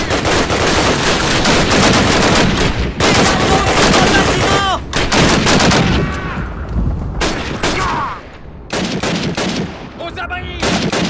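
Heavy, near-continuous machine-gun and rifle fire in the video game Call of Duty: United Offensive, loud bursts with brief pauses over about eleven seconds, with shouted voices mixed in.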